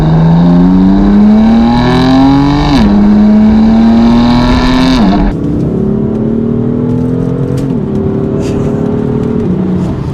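Modified BMW M4 F83 engine revving loudly and close up, pitch climbing then dropping sharply at a couple of quick, crisp gear changes, followed by steadier acceleration with further shifts.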